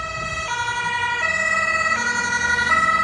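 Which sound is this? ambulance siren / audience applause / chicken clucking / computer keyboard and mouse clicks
ambulance siren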